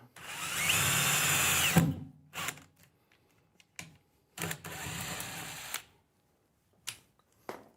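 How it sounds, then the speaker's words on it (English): A power drill pre-drilling a hole for a campervan rear door panel whirs in several bursts, a long run followed by shorter ones, separated by quiet pauses. "Now I'm pre-drilling this hole so that it's just easier."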